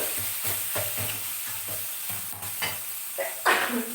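Rice frying in a pan with chana dal added sizzles steadily, broken by regular scraping stirs about every half second, close and fairly quiet, with no talk.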